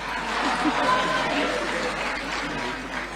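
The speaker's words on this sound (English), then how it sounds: "You can clap for Mr. Mufokeng too." Applause from a crowd at a city government address, a steady wash of clapping with murmurs and chatter mixed in underneath.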